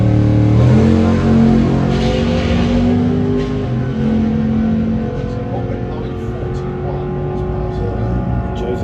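Front-wheel-drive drag racing car on nitrous at Santa Pod, a loud engine roar with shifting pitch that gradually eases, heard under a commentator's voice.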